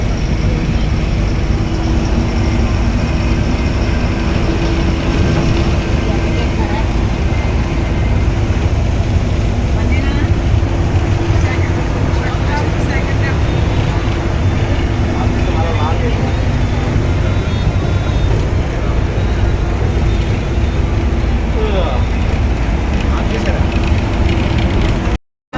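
Inside a moving bus on a friends' and families' trip from Shirdi: a loud, constant engine drone and road rumble filling the cabin, with faint voices of passengers beneath.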